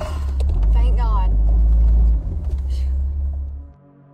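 Car driving off at night from an isolated area, a loud low engine rumble that holds steady, dips briefly, then cuts out, with a frightened voice speaking over it.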